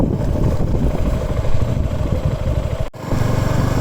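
Engine of a 2023 Suzuki V-Strom 250 SX motorcycle revving close up, a loud continuous rough drone that cuts out briefly near three seconds before resuming.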